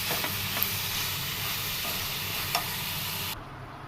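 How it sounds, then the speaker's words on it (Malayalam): About 200 grams of prawns sauté in a pan for a drumstick and prawn theeyal, giving a loud, steady sizzle with stirring scrapes that cuts off abruptly near the end. "നമുക്കിതിലേക്കൊരു 200 ഗ്രാം ചെമ്മീൻ ചേർത്ത് കൊടുക്കാം. അതും കൂടി ചേർത്ത് നന്നായിട്ടൊന്ന് വഴറ്റാം."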